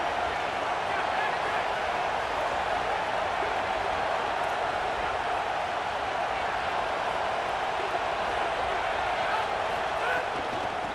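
A simulated stadium crowd in an online head-to-head football video game roars continuously, a dense steady wash of cheering and noise with no breaks, loud and close throughout.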